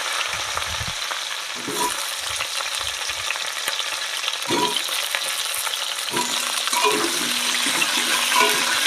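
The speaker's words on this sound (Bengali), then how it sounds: "এবার আলুটা একটু ভালো করে ভেজে নেবো" Potatoes and chopped onion fry in a pan for chana dal khichdi in a village kitchen, a steady broadband sizzle running throughout with a few low knocks and scrapes of stirring.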